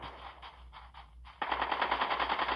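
Rapid automatic gunfire in Call of Duty Mobile, a fast rhythmic burst after a few softer scattered shots, moderately loud.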